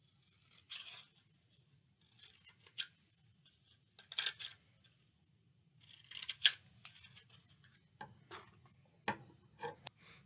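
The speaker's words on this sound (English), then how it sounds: "Now we're going to take the cardboard tube and scissors and we're going to cut four slits" Scissors snipping slits into a cardboard tube for a robot craft: sparse, quiet, close-up cuts and papery scrapes spaced out with pauses between them, no talking.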